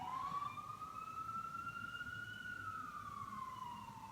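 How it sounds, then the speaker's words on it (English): A siren wails past with a long rising then falling tone, fairly loud and steady over a low background rumble. "there's a siren going by"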